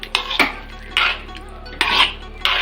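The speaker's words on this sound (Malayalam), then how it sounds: "പിരിയരുത്, നമ്മൾ ഇളക്കി കൊടുക്കണേ." A spoon stirring yogurt into coconut-milk chicken in a pot, giving four or five sharp metallic scrapes and clinks against the pot in an uneven rhythm, close and clear.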